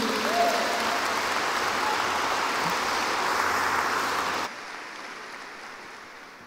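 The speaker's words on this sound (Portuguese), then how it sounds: "Pode aplaudir Jesus pela vida dele" Church congregation applauding, a dense sustained wash of clapping that fills the room at steady volume, then drops off abruptly to a quieter tail of scattered claps and room noise.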